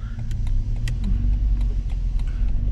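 A 1984 Volkswagen Parati with its stock Volkswagen engine idles steadily nearby, a low continuous rumble with faint clicks and rattles on top, no voices.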